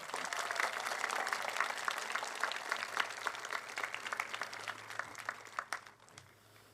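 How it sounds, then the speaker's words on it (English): Sustained applause from a graduation ceremony audience, a dense steady patter of many hands that fades away toward the end. "Another round of applause for all of"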